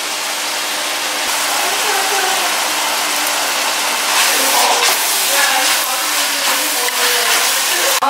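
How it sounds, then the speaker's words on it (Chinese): Sweet bean paste and doubanjiang frying in a pan with garlic and onion, a steady, fairly loud hissing sizzle that swells slightly midway and continues without a break. "现在加那个甜面酱跟豆瓣酱，那甜面酱跟豆瓣酱要炒过才会香"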